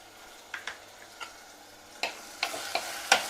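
A spoon stirs cooked tomato and ginger-garlic paste in a pan for a cauliflower curry, making a few sharp scrapes and taps against soft background sizzling, close and quiet.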